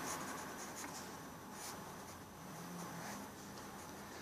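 A pencil scratches steadily across paper in a drawing session, a continuous close, fairly loud dry rasp with slight strokes and pauses and no talking.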